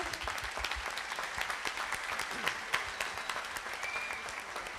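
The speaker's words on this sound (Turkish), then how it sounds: "alkışlayalım seyircimizi." Concert audience at a Turkish folk music choir performance applauding steadily throughout, a dense, continuous clapping close and sustained with no talk.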